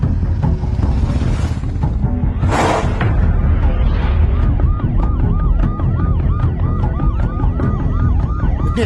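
Ambulance siren in a Tamil movie scene, loud and close, rising in a wailing sweep then switching to a rapid repeating yelp over several seconds with traffic noise beneath.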